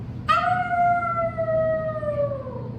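A person imitates a coyote call, producing one sustained, loud howl that starts high and slowly slides downward for over two seconds, voiced alone with no other sounds.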